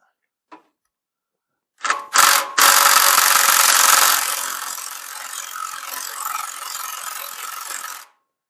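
Nuts, 18 mm, being loosened with a ratchet on the NP242 transfer case of a 1994 Jeep Cherokee, heard as a short tick followed by a loud burst of ratcheting and metallic clatter that settles into a steadier, quieter mechanical whir.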